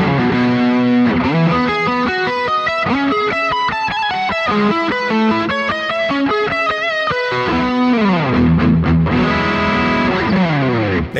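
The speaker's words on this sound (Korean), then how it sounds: "지금 이대로도 좋은 솔로톤이지만 여기에 공간감을 더 주기 위해서 리버브를 추가하겠습니다" Distorted electric guitar solo tone through a Boss GX-100 multi-effects unit with chorus and reverb added, sustained melodic lead lines with bends playing continuously and loud, with no talking.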